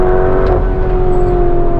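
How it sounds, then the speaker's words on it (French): A Lamborghini Urus SUV accelerates hard with a loud, steady engine drone from inside the cabin. The tone holds strong throughout, with no talking. "C'est une petite accélération sympathique, frérot."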